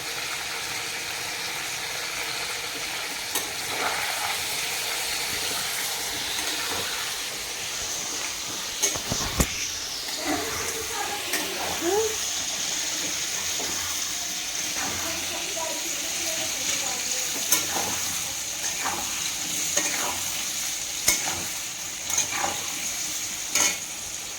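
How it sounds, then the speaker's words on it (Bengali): Potatoes seasoned with salt and turmeric fry in a pan, a continuous hissing sizzle with scattered scraping stir strokes and clinks over about twenty-four seconds, with occasional faint speech. "আলুটা এখন ভাজা হয়ে গেছে।"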